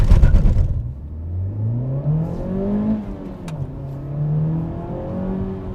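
A 2017 Honda Civic Type R revving hard in first gear, engine rising in pitch through several climbing sweeps, loud and close with a steady roar and no talk.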